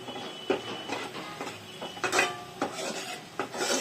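Fish curry masala with chili powder being stirred and sautéed in a pan, giving soft scraping and light clinks of a spoon against the pan at an irregular pace, close and fairly quiet with no talking.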